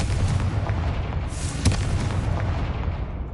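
A Confringo fire spell exploding in the video game Hogwarts Legacy, a booming blast rising out of a low rumbling background.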